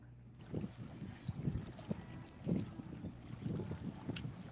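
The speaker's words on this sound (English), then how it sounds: "It's just a little windy here." Gusty wind buffets the microphone beside a river near government boat docks, rising and falling in low rumbling surges with no talking.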